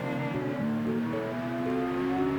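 A pickup truck engine in the video game CarX Street hums steadily, with its pitch stepping up and shifting as it revs, fairly quiet and with no talking.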